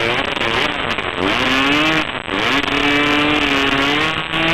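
Enduro motorcycles revving hard while stuck in a mud hole at a 1997 World Enduro Championship race in Semily, Czech Republic, engines wailing and rising and falling in pitch, loud and close.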